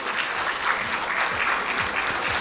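An audience at a business forum session claps in a steady, dense round of applause, even and sustained for a few seconds without pause.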